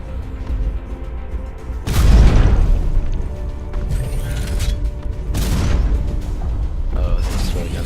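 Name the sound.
mech firing shots in video game Hawken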